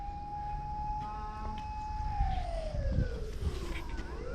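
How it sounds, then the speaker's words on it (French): A wailing siren sweeps up and down in the distance in Japan, faint and drawn out, over low rumbling ambient noise. "Là, déjà il y a les sirènes et tout."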